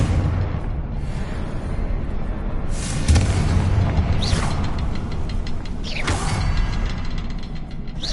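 Confringo blasting spell from Hogwarts Legacy going off as a fiery explosion with a rumbling boom, followed by crackling, whooshing magical bursts over a steady game ambience, with no talking.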